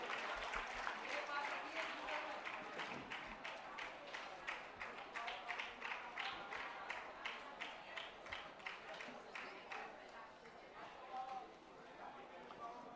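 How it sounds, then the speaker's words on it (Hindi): An audience at a religious question-and-answer gathering in Agra claps for students receiving prizes, the applause settling into a quiet, rhythmic, almost unison beat that carries on for several seconds. "इन सभी छात्र एवं छात्राओं के सम्मान में जोरदार तालियां बजाते चलें।"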